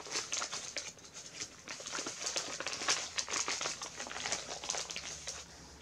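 Someone handles and opens a paper envelope from a swap parcel, producing a steady, close crinkling and rustling of paper with small taps. The sound stays quiet throughout and no one speaks.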